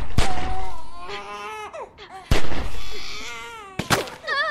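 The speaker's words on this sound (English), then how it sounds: "Look at the gunshots hitting the ground near the baby." Gunfire and a crying baby in the Grand Theft Auto IV video game: loud, sharp shots burst out about three times, with a baby's wailing cries between and over them.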